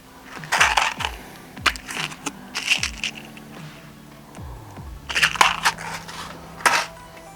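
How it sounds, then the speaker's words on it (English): Small tungsten beads for fly tying are handled and poured, making a series of light, sharp clicks and rattles that come in scattered bursts, close and fairly clear, with no talk. "And so I'll pull out our tungsten beads."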